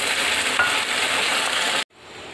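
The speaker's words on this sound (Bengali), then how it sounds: "এখন এগুলো দিয়ে সব কিছু একসাথে নেড়ে চেড়ে ভালোভাবে কষিয়ে নিব" Potatoes with turmeric, cumin powder and ginger-garlic paste are stirred and fried in a pan, giving a steady, dense sizzle with scraping that cuts off abruptly near the end, then returns more quietly.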